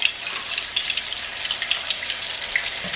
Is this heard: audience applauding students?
no